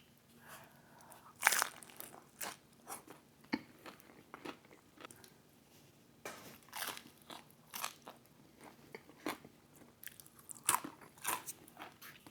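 Loud crunchy bites into a thin-crust Domino's spicy chicken bacon ranch pizza with sauce are followed by close, crackly chewing, with the bites spaced irregularly across the stretch and no talking.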